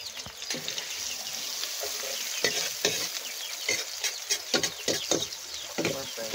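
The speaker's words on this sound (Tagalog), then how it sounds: "Ilagay na natin guys ang bawang sibuyas sa kalawya." Garlic and onion fry in a hot pan with a loud, steady sizzle, while a utensil repeatedly clacks and scrapes against the pan in uneven strokes, close by, over several seconds.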